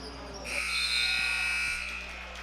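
End-of-half buzzer sounding at a varsity high school boys basketball game, a loud sustained electronic tone lasting about two seconds over gym crowd noise.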